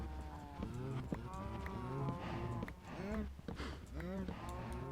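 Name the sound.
cows mooing in Minecraft video game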